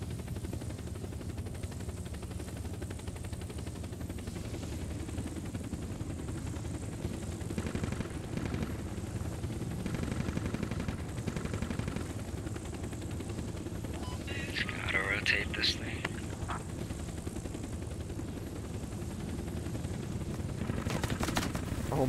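A UH-60 Black Hawk in the game Squad sets down with a steady, loud rotor and engine drone, accompanied by some scattered gunfire.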